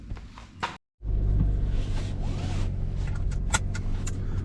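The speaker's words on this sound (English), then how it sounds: "heading up to the old parts store now in Becky's car." A car drives along with a steady, loud rumble of engine and road noise heard from inside the cabin, after a brief sharp sound and a moment of silence at the start.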